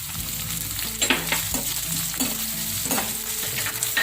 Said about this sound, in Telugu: వేసుకొని కాస్త వేగనివ్వాలి